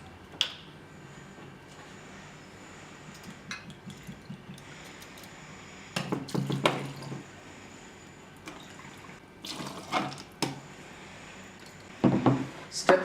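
Gin is poured over ice into a tall glass, giving soft trickling and dripping with a few brief clinks and splashes against a quiet background, with short louder bursts near the end.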